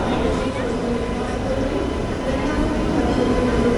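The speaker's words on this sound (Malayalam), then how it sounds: "ഇത് ദിബ്രുഗഡ് കന്യാകുമാരി വിവേക് എക്സ്പ്രസ്സാണ്." The Dibrugarh–Kanyakumari Vivek Express pulling in at a station platform makes a loud, continuous rolling rumble of rail wheels that stays steady throughout the brief stretch.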